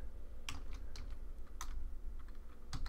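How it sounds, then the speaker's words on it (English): Quick, uneven clatter of keys typed on a computer keyboard, close and distinct, in short bursts with brief pauses and no talking. "I do not know why I can't type today"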